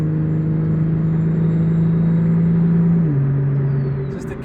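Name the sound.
car with T51R mod accelerating uphill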